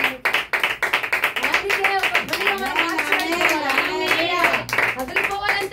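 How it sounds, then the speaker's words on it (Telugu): A church congregation at a worship service claps loudly in a fast, steady rhythm, with voices singing or calling out over the continuous clapping. "బిగ్గరగా చప్పట్లు వేస్తున్నాము"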